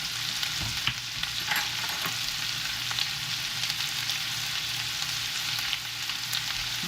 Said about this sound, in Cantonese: 跟住炒一炒佢，炒香佢啦